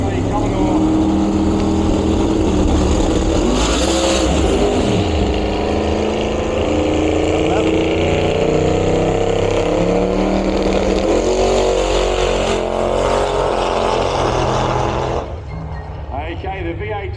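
Loud racing engines of a V8 Holden Commodore and a Ford Capri roar continuously, revving and droning as the cars accelerate hard down a drag strip, with a commentator talking over the noise throughout.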